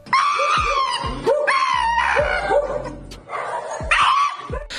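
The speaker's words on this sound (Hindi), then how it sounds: "ऊंट को भी देख लीजिए जो इतना ज्यादा डर रहा है कि अजीब सी आवाजें निकालकर चिल्ला रहा है" A frightened camel cries out in repeated loud, strained wails and yelps, several harsh calls in quick succession with no talking.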